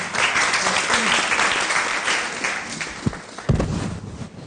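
A television show audience claps loudly and steadily, the applause thinning toward the end with a couple of sharp thumps near the close and no voice over it.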